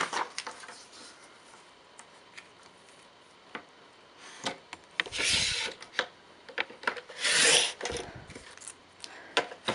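A white border being trimmed off a photo print for a wood transfer craft: soft intermittent rasping and scraping strokes, quiet and close, with no talking.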